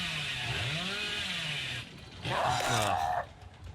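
The Hillbilly's chainsaw revving in Dead by Daylight, a steady whining buzz that drops off and then surges again in a louder rev. It sits under faint game ambience.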